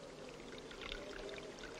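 Steady water pouring and splashing in a shower, a continuous broadband rush without pauses or voices.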